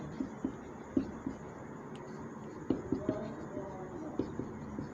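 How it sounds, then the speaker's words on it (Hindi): Hand writing of a maths heading on a board or page during a Class 12 lesson on relations and functions, with irregular scratchy strokes and taps spread across the clip, close and moderately loud, and no speech. "यहाँ पर लिख देते हैं अपरिमित समुच्चय"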